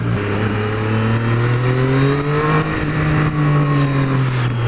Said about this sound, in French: ce moteur, on l'entend rugir de plaisir. Tellement qu'il est agréable, ce petit 3 cylindres